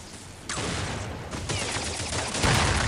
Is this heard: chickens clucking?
no